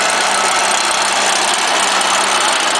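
A STIHL chainsaw engine runs at high idle just after a cold start, a loud, steady buzzing drone held close by without a break.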